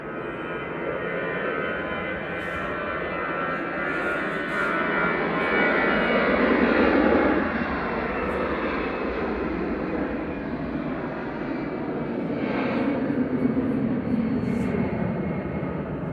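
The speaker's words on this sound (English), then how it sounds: "EasyJet departing next, heading off to Reyes, GEZUO with flight 2045 and A320 Classic." EasyJet Airbus A320 Classic departing Manchester Airport, a steady broadband jet roar holding for the whole stretch, swelling slightly in the middle as the aircraft passes, heard from a distance with no talk over it.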